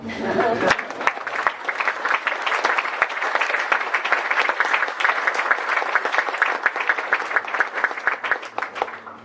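A meetup audience at a JavaScript developer talk breaks into sustained applause, dense clapping right after a brief voice, loud and even until near the end.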